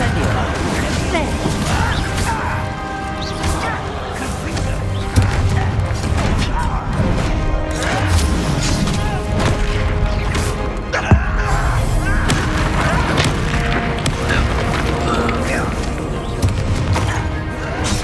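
Incendio fire spell blast in the Hogwarts Legacy video game, a loud whooshing burst set within a dense, continuous wash of game sound effects and music, with characters speaking over the action.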